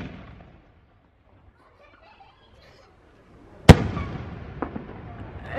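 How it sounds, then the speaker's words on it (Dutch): New Year fireworks go off after a quiet stretch: a single sharp, loud bang, then crackling and popping with a second smaller burst, heard from a short distance. "Ze hebben hem net aangestoken. Ja, je hebt dus vuurwerk en je hebt vuurwerk."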